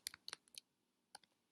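Quiet, close typing on a computer keyboard: a quick burst of several key clicks, a short pause, then a few more taps.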